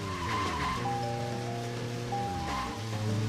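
Rain falls on a curvy road in the Deadly Premonition video game, a steady wet hiss carrying alongside a car engine's droning hum and tonal game sounds, with no talking.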